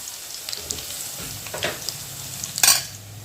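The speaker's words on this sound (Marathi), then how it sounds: "दोन मिनिट मिरची तळून घेऊया" Chilies fry in hot oil for a Marathi cabbage and peas bhaji, a steady crackling sizzle close by, with a few scraping stirs and a sharp clatter near the end, and no one speaking.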